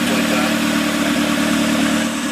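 A Honda B18 engine running with only an open header and no exhaust, a loud, raw, steady mid-pitched roar close by with a slight buzzy rasp, continuous and without talk.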